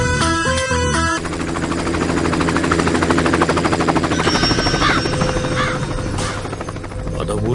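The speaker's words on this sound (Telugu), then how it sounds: "మన ఊర్లో హెలికాప్టర్ ఏట్రా?" A helicopter flies over a village with a loud, steady, pulsing rotor chop that fills the whole scene, briefly layered with a sharp rattling burst at the start.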